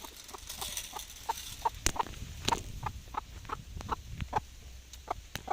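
Hens in a small backyard flock cluck with repeated short calls at an even pace, some close and sharp, others softer in the background, with no talking.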